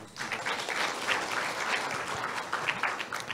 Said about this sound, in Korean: 한 분 한 분 소개될 때 큰 박수 부탁드립니다